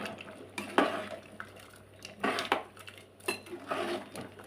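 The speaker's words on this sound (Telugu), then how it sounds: "ఉప్పు వేసుకొని కలుపుకుందాం." A spoon scrapes and clinks against a pot while salt is stirred into a boti tomato curry, in a few soft, irregular bursts of stirring with light metallic taps and quiet pauses between.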